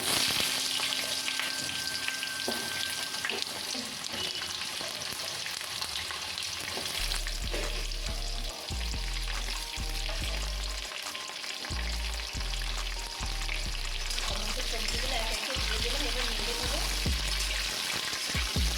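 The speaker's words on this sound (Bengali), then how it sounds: "এবার সবজিগুলো আমি একে একে দিয়ে দিচ্ছি।" Vegetables sizzling in hot oil with dried chillies and bay leaves for Bengali shukto, a constant close crackle with repeated stirring scrapes and soft thuds as pieces drop into the pan.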